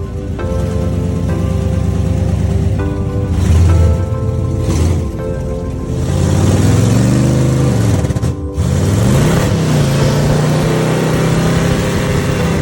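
A 1968 Chevrolet Camaro, left sitting since 1999, starts up for the first time in years, its engine running loudly and revving repeatedly in rising and falling swells, with a brief dip before it roars again.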